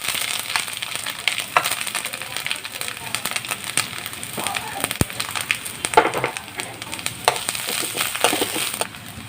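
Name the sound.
ginger frying in a pan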